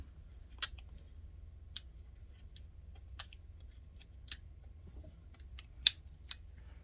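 Spring-based scissors on a Leatherman Free T-4 multitool snip repeatedly in sharp, crisp clicks, about seven cuts spread unevenly over several seconds, close and clear against a low background hum.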